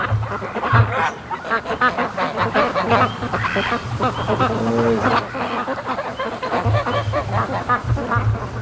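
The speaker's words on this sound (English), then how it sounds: "it sounds like the ducks are following me" Ducks following a boat on a lake, honking and quacking close by in repeated bursts over steady wind and water noise.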